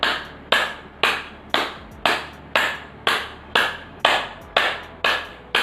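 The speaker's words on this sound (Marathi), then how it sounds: "दोन्ही हाताची बोट आणि पंजे एकमेकांवर टाळी स्वरूपात मारायचे आहे" Fingers and palms of both hands clap together as an exercise, about ten sharp, evenly spaced claps at a steady rhythm, close and alone with no talking.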